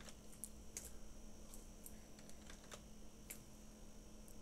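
Computer keyboard keys pressed during a Blender 3D modeling tutorial, a faint scatter of light clicks at an irregular pace over a quiet background.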